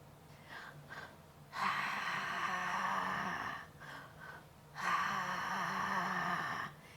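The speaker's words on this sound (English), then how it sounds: "So two big breaths in and one breath out." A person does a deep breathing exercise with two sharp breaths in and one breath out. Two long, loud, airy breaths come close to the microphone, each followed by quieter, softer breathing.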